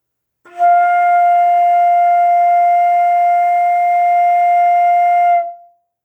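One long, even F held on a flute as a beginner band practice note, clear and steady for about five seconds with a soft start and gentle taper, with nothing else heard.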